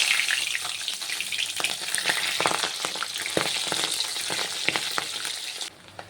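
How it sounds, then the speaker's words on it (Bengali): Pabda fish seasoned with salt and turmeric sizzles steadily in hot oil in a covered wok, a dense continuous crackle with scattered sharper pops and brief stirring clatter, fading near the end. "মাছটা একটু ভাজা হয়ে গেছে, উল্টে দেবো"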